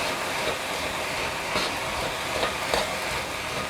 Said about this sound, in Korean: 빠르게 섞어주세요.